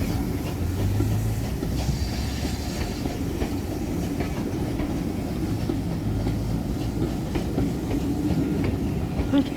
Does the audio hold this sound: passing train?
yes